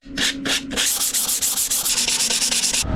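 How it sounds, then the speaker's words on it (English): Light hand sanding of wood panels on a sailboat navigation desk ahead of varnishing, a steady close scratchy rasp with quick back-and-forth strokes, a couple of short separate strokes at first and then a continuous run, with no talk. "So light sand down now on all these, and then start varnishing."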